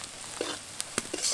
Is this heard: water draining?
no